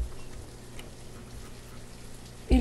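Rain falling in the village-building video game Banished, a soft, steady patter of drops at low level, continuous and alone, with a brief thump at the very end.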